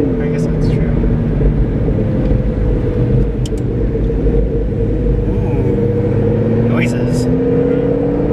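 A McLaren 650S with twin turbos drives along, a loud steady engine drone with rising tonal whine, a few short high chirps over it, heard from inside the cabin.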